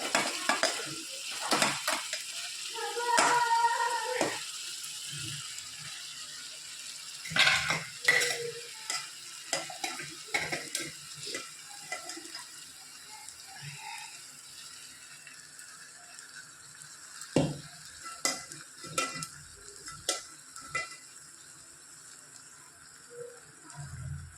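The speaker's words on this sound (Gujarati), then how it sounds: "ધીરે ધીરે સરસ બધું મિક્સ કરી લઈએ." Soaked poha being stirred and mixed with spices in a pan, heard as a long run of scattered scrapes and clinks of a spoon against metal over a faint background, irregular and close, with no talking.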